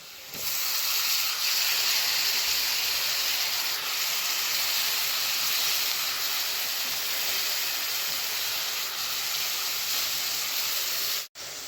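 Spinach greens sautéing in hot oil in a pan, a steady broad sizzling hiss that continues evenly and fairly loud, briefly cutting out near the end.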